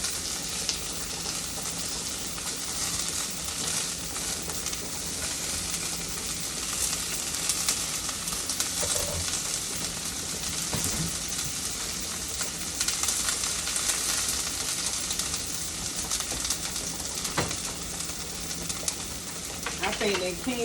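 Minced garlic sizzling in a hot pan while cooking a chipotle grain bowl, a steady soft frying hiss throughout with faint kitchen clatter in the background.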